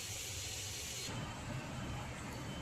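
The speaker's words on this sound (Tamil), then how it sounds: "இப்போ கேரட் வதங்கட்டும்." Carrots sautéing in a pan give a steady, close hiss and sizzle that runs without pause for a few seconds, fairly quiet and alone.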